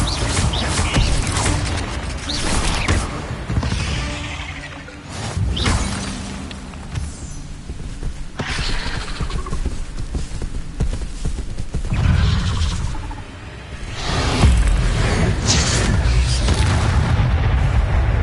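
Spell effects crackle and boom during combat with spiders in the video game Hogwarts Legacy, where the Incendio fire spell is cast among repeated blasts, with rumbling impacts throughout and faint chirps in the background.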